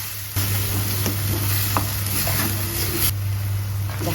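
Ground masala paste for a Kerala-style tuna curry sizzles loudly and steadily in a pan, with occasional sharp scrapes and taps of a spoon stirring it, over a low constant hum.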